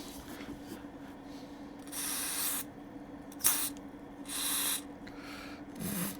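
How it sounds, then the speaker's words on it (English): Several short bursts of aerosol spray hiss close by while cleaning switch contacts on a Pioneer A-229 amplifier, separated by quiet pauses, over a faint steady hum. "let's clean these out, put a bit of spray in them"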